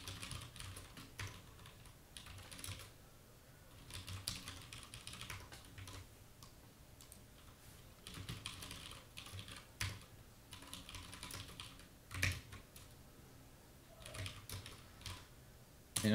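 Computer keyboard typing code, soft rapid key clicks in uneven bursts and pauses, faint and close, with no talk.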